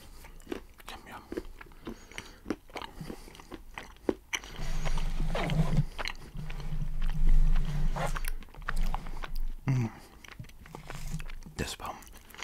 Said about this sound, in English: So this is a layer of chocolate with caramel and nuts in the middle.